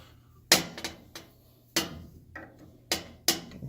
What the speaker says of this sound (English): so I'm just going to use my 10mm socket